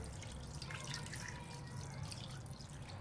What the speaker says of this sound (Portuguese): Vamos colocar todo o vinho branco aqui agora.